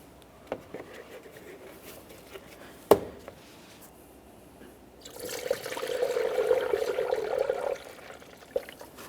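Coolant pours through a funnel into the cooling system of a 2007-2017 Jeep Patriot, a steady liquid stream running for a few seconds in the middle, with scattered clinks and a sharp knock before it.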